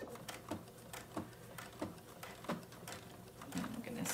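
A sewing machine runs a straight stitch along a fabric edge with a quarter-inch seam allowance, a quiet rhythmic mechanical whir with regular clicking pulses, close and fairly soft.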